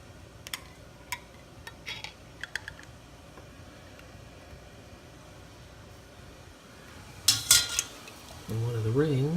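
A metal lid and screw ring being set onto a glass jar of homemade peach jam, with scattered light clinks and taps, a louder metallic rattle, then a scraping twist at the close.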